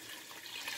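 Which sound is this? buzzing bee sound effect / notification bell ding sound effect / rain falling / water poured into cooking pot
water poured into cooking pot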